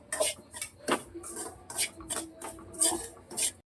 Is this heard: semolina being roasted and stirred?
yes